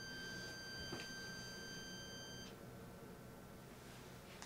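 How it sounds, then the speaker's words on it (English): A UPS unit gives a faint, high electronic warning beep lasting a couple of seconds, heard against a steady background hiss, with a second soft chirp near the end and no talk. "One of my UPSs decided to beep like I'm overdrawing current or something on it"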